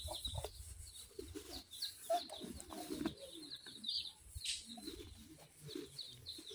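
In a village yard, chickens cluck and murmur softly at close range. Scattered bird calls, a brief coo-like note and faint background rustling come and go.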